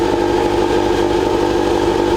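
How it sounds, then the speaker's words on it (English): A Nissan Figaro's four-cylinder engine with a Mecum exhaust snarls in a steady, buzzy drone, loud and close, with a raspy pulsing edge and no voices over it. "Mecum exhaust is so nice."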